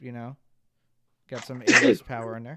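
A single sharp sneeze bursts out mid-conversation during a live podcast recording, sitting between stretches of talk close to the microphone.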